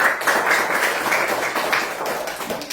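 Students in a classroom clap together for a classmate who answered a question, a steady, even patter of many hands that lasts the whole stretch without pause.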